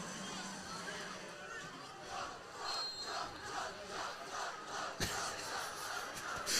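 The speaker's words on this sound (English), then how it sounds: "A chug cheer in the stands." Football fans in the stands at a high school game chanting a rising chug cheer, a crowd roar swelling in rhythmic waves, heard from a distance under a close commentator's voice.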